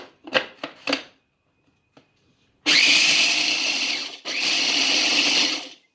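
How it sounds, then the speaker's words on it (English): Pumpkin seeds pulse-ground for dukkah in a grinder, a few short taps and knocks first, then two loud, close, whirring bursts of the motor separated by a brief pause. "you're just going to pulse grind for, I don't know, at least 30 seconds until they are quite fine"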